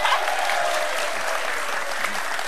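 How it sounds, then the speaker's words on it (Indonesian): A studio audience at a televised political talk show about choosing legislative representatives claps in a dense, sustained burst of applause that holds steady and loud throughout, with no speech on top. "Tepuk tangan lagi dong,"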